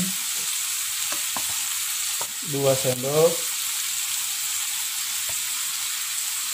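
Long beans and egg sizzle in a wok as oyster sauce goes in, a steady frying hiss with a brief burst of scraping stir strokes in the middle, while someone speaks briefly.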